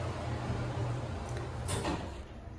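The rear door of an Otis Gen2 traction elevator at a Hampton Inn & Suites in Warren, Michigan sliding open: a low motor hum gives way to a short mechanical swish and clunk near the end, fairly close.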